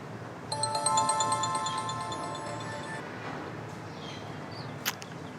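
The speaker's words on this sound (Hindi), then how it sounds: "खाला अपिया को फोन कर रही हूँ।" A phone's electronic ringtone chimes in a repeating melodic pattern for a few seconds over a quiet indoor room tone, then stops; a sharp click follows near the end.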